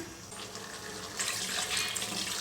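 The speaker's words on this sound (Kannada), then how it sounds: "ಈಗ ಒಂದು ಲೋಟ ನೀರು ಹಾಕ್ತೀನಿ" A glass of water splashes steadily into a pan of spiced chicken, growing louder and fuller partway through, with no one speaking.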